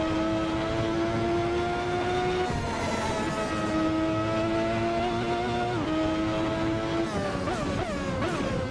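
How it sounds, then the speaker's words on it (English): A Ferrari 643 racing car engine in a video game whines at high revs, with the pitch dropping sharply at each automated gear change, several shifts in a row, continuous and loud. "the car is making its gear change"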